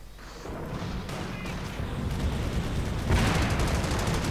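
Battlefield din in a real-time strategy game: dense rattling rifle and machine-gun fire with scattered explosions, building to a louder, harsher volley of blasts toward the end, with no talk over it.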